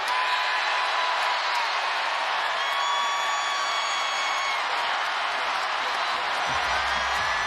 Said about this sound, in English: Beckers exhorting again the sold-out crowd to go from loud to louder to loudest